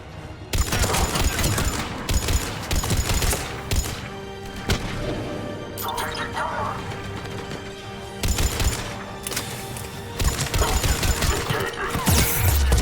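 Gunfire in the Mass Effect 3 video game during a krogan escort battle, heavy bursts and dense rattling volleys returning through much of the stretch, loud and near, with brief lulls between barrages and a voice speaking at times.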